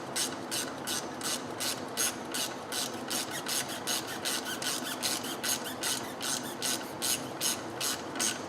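A ratchet tightening brake caliper bolts on a 2WD Dodge Dakota during a front brake pad job, a close, steady series of quick clicking pawl sweeps repeating evenly with no talking.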